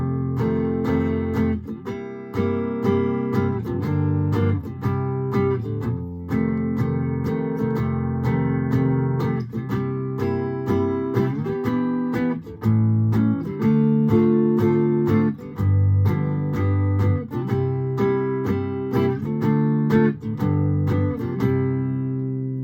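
Jazzy blues progression with 2-5-1 chords played steadily on keys, rich harmonies changing every bar over a moving low end, continuous and fairly loud with no voices.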